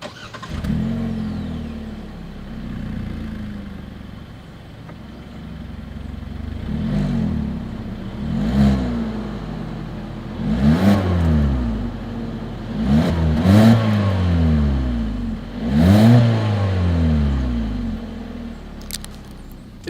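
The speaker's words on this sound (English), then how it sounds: "As always, here is that exhaust clip." A 2021 Hyundai Kona's engine revs repeatedly through its exhaust, rising and falling in several throaty bursts over a steady idle rumble, close and fairly loud.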